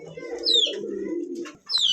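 A pair of Chinese Owl pigeons coo close by, a low, steady, throaty coo with a short thin chirp laid over it, then a brief pause before the cooing starts again.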